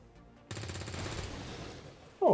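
Gunfire in XCOM 2: a quiet lead-in gives way to a sustained burst of rattling shots, followed by a brief, louder sharp impact at the end.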